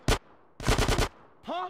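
Gunfire in Grand Theft Auto San Andreas: a single sharp shot, then a tight burst of four rapid shots, loud and close, followed by a brief tonal game sound.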